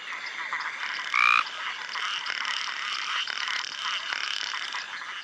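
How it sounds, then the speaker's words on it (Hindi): Many male frogs croak together in a dense, continuous chorus at night, a steady buzzing trill with one louder, nearer call standing out briefly. "अब हजारों मेंढक बाहर आ रहे हैं और नर अपने टर्राने के कोरस से"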